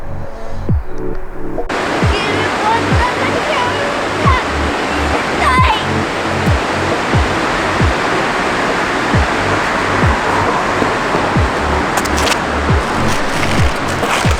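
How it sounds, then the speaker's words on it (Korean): Bridalveil Fall in Yosemite roars as a loud, constant rush of falling water, a thick wash of noise with faint rhythmic thumps running underneath. "지금 물소리가 들리는데요"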